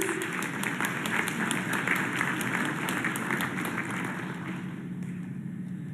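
A large audience at an evening spring banquet claps steadily, a dense and loud wash of applause that holds for the whole stretch and thins slightly toward the end.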